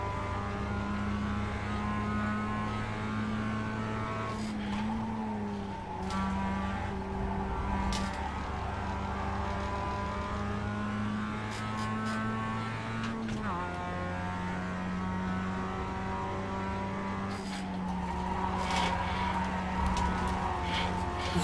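A race car engine in the iRacing sim drones steadily under throttle, its pitch climbing through the gears with a few shift drops, loud and continuous with no talking.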